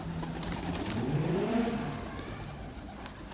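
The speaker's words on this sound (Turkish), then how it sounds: "Bak kuşlar cıvıl cıvıl." Pigeons or doves coo and call softly on a rooftop in the dark, with faint chirps rising over steady background traffic hum.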